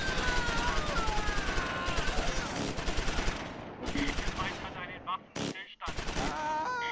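Dense gunfire in the WWII tactical game Close Combat V, set on 8 June 1944, with rapid bursts and single shots crackling continuously, a loud close-range battle that thins briefly and then resumes.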